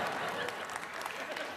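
An audience at a Canadian lifetime achievement award ceremony keeps applauding in a brief burst of dense clapping, with someone talking over it.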